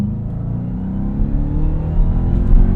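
A 2021 Dodge Durango Hellcat with 710 horsepower revs and accelerates, its loud, deep engine roar building steadily and rising toward the end.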